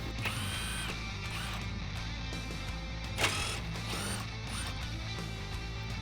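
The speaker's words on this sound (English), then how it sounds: "Grab a 10mm socket and remove the 2 bolts out of the top of the grille." A 10mm socket ratchet works the top grille bolts on a 2016-2019 Toyota Tacoma, giving steady, close clicking from the pawl that runs through the whole stretch with a short louder clack partway in and no talking.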